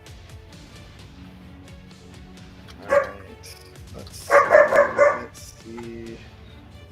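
A male dog barks indoors in two short bursts, one sharp bark and then a quick cluster of loud barks, with a man's brief speech nearby.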